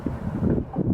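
Strong wind buffets a microphone out on a lake during fall bass fishing, a steady low roar and rumble filling the whole second with no voices.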